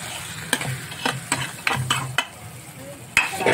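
A spiced tempering for sambar sizzles and crackles as a spoon stirs it through the pot, with a series of sharp scraping clinks over steady frying noise, close and moderately loud.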